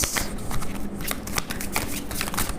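Tarot cards being handled and drawn from a deck: a steady run of crisp riffling and flicking card sounds, close and fairly loud, with short snaps as individual cards slide off the pile.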